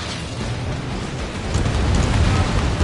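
Missile hits in Ace Combat 7, a sustained rumbling blast of explosion noise over jet-fight ambience, swelling louder in the second half with no pause.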